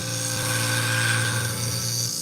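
An industrial scissor blade being sharpened gives a steady, loud, continuous grinding hum with a constant tone throughout the short pass.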